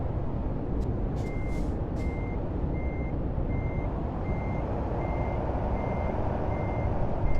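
A truck backing up in American Truck Simulator gives off evenly spaced reversing beeps, about eleven in a row. They sit over a steady, loud diesel engine rumble with a few short air hisses near the start.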